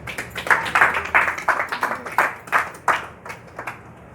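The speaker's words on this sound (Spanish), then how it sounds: "Dele un aplauso a Cristo." A congregation claps during a church sermon, with a sparse, uneven patter of hand claps of moderate loudness and no voices over it.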